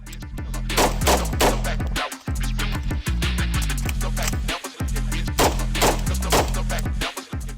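Rifle shots fired at the chests of two targets on a shooting range: rapid, loud, closely spaced reports in strings, broken by brief pauses for a reload.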